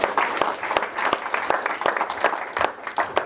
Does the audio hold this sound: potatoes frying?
no